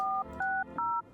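Three quick dual-tone keypad beeps as a phone number is dialed in the game No, I'm not a Human, each beep short and evenly spaced, loud and close.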